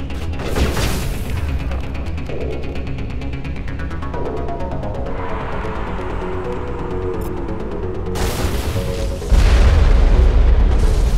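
Grenade blasts in the video game Mass Effect: a heavy boom near the start and another deep explosion late on, loud and close over steady game ambience.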